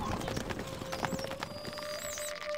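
Horse galloping in the medieval strategy video game Stronghold Crusader, rhythmic hoof clip-clops under game sound effects and brief voice snippets, moderately loud throughout.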